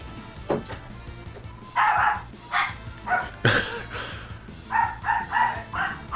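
Dog barks played over a voice call come in short repeated bursts, some yips and whimper-like notes among them, with a thin, slightly processed quality over a faint background hum.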